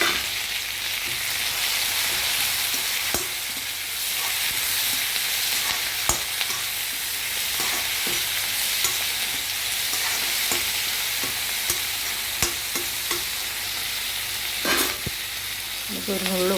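Tomatoes, green chilli and cashews sizzle steadily in a pan, with a constant frying hiss broken by occasional sharp clicks and scrapes of stirring.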